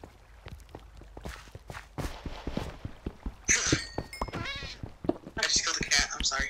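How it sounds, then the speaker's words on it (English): A cat in the Minecraft video game gives a few short meows amid in-game footsteps and thunks, with a person talking over much of it. "Is this a cat? How is it still here?"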